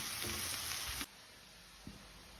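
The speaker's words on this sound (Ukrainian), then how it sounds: "Підмішуємо, щоб цибулька змішалася з грибочками." Mushrooms and onions fry in a pan, a bright close sizzle for the first second that drops to a low hiss, with a couple of soft scraping stirs.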